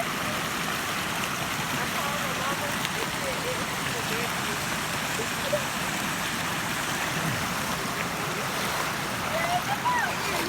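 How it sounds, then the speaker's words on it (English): Floodwater from Hurricane Florence rushes through a regular residential neighborhood in a steady, loud broadband roar that runs unbroken throughout, with someone talking now and then over the churning water. "There's a lot of water coming from over there, y'all."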